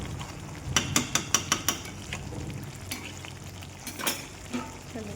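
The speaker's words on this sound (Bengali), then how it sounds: "আর এই এইভাবেই চিকেনটা আজকে কষাবো জল দেবো না" Chicken and small boiled potatoes sauté without water in a pan, a soft sizzle broken by a quick rhythmic burst of about six spatula scrapes and knocks, then a few scattered stirs, close and alone.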